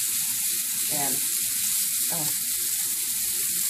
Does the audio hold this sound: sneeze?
no